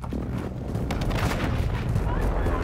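Airstrike explosions and gunfire in Call of Duty: Modern Warfare II boom and crackle in a dense, continuous barrage, loud and sustained throughout with layered blasts and rattling shots, and a voice briefly audible over the din.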